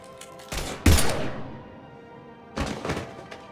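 Gunfire in the video game Mass Effect Legendary Edition: a heavy close blast with a ringing decay, followed later by a second burst of sharp shots, heard alone without talk.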